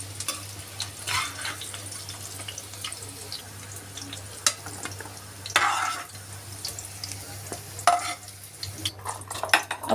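Lotus stem slices frying in hot oil, a steady soft crackle with scraping stir sounds and a few louder clatters as pieces are lifted out, no talking.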